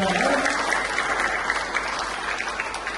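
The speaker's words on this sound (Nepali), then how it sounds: "फेरि ताली बजाइदिनुहोस्।" An audience at a youth thanksgiving conference applauds steadily, a dense, even clapping that fills the room throughout without any voice over it.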